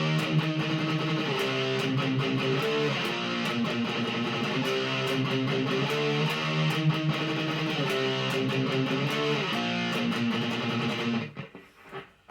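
A distorted electric guitar riff from a song's verse, played steadily and loud with rhythmic chugging power chords for about eleven seconds, then cutting off into near silence.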